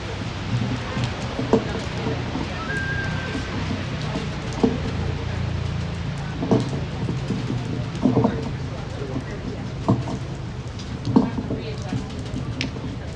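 Freezing rain falling steadily outdoors at a cold-weather rally, a continuous patter with occasional louder drops ticking on surfaces, heard under distant crowd murmur and talk.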